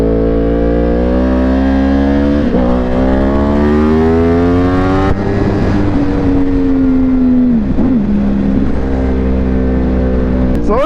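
A Yamaha R1 1000cc motorcycle engine drones steadily while riding, loud and close, with its pitch climbing and dropping through gear changes and throttle shifts, accompanied by constant wind rush.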